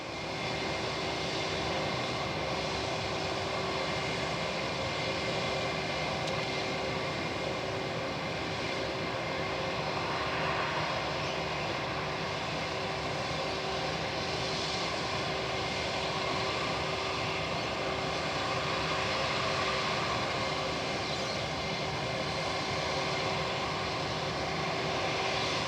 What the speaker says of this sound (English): here comes our Singapore Airlines 787.